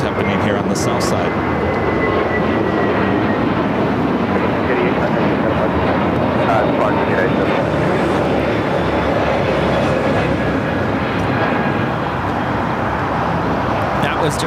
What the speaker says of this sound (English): That was JetBlue 688 taking off to Boston on the A321neo.